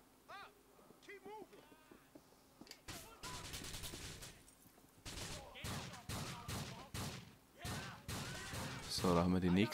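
Gunfire in GTA IV breaks out in rapid, close bursts of shots, preceded by a quieter stretch, with someone talking over parts of the action.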